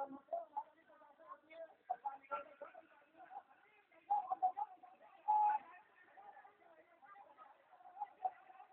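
Pigeons cooing during a light and sound show, soft repeated coos in short bursts among a muffled narrating voice and faint background sounds.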